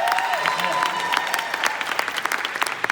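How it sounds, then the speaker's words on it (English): An audience at a motivational speech breaks into applause, a bright wash of clapping that grows more scattered and individual toward the end, with a voice talking over it early on. "Give him a round of applause."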